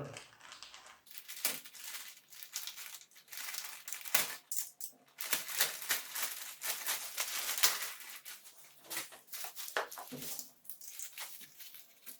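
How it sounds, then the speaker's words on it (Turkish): A plastic bag around a Samsung Galaxy Tab A7 2020 tablet crinkles and rips in repeated bursts, close up, with uneven pauses between handling noises. "Evet şimdi poşetini açalım."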